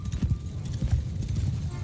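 Horses in the video game Mount & Blade II: Bannerlord clatter along in a steady, dense clip-clop of hooves, a low rumbling trot of several mounts close by during a battle setup, with no voices.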